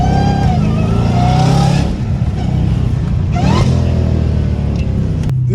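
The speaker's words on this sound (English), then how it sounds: "Dude, this car sounds amazing." A Dodge Challenger Hellcat Redeye accelerates on a highway, its engine roaring loud and close with rising revs, a brief gear-change dip near two seconds, then a second surge of climbing power.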